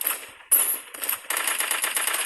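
Gunfire in the mobile battle royale game Free Fire Max: loud, rapid bursts of automatic shots in three quick volleys that grow into a sustained, rattling stream of fire, with no talking.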